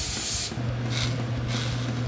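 Short hissing burst of nonstick cooking spray before searing breakfast burritos, followed by a couple of fainter spray pulses over a steady low hum, close up and without speech.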